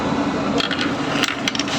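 Coins dropping into the slot of a piso WiFi coin-operated machine with a faulty coinslot, giving a few short metallic clinks over a steady background hiss.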